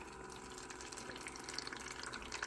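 A Mr Coffee programmable pod and 10-cup combo brewer heats and brews plain water, giving a steady close gurgling, hissing flow that holds evenly throughout with small bubbling pops near the end.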